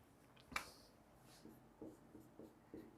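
Writing strokes on a board during a Vedic maths lesson: one sharp tap, then a run of short, soft scratchy strokes at an uneven pace, close by, with no talking.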